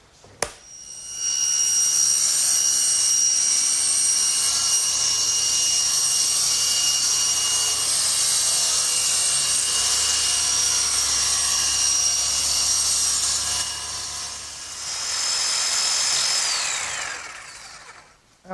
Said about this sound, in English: Oh, my electric jigsaw sure makes quick work of finishing up that slot.